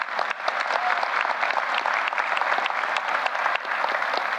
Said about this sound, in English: Give my kids a round of applause.